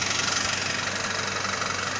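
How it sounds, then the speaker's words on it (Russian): A BMW E90's engine runs with a steady, rapid knocking rattle over a continuous broadband idle drone, close and fairly loud, with no talking. "Стук в двигателе."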